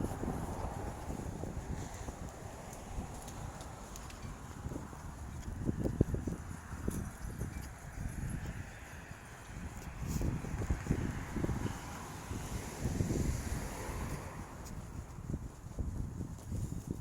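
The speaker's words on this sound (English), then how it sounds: "It's quite windy." Gusty wind on an outdoor city walk toward a zoo in a West Side neighborhood, a steady blustery rush with thumps and buffeting against the microphone through the whole stretch, no talking.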